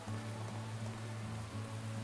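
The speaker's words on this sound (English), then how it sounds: "Oh, it's raining." Soft, steady rain falls in the Atelier Sophie video game as a faint, continuous hiss, with a low sustained hum underneath.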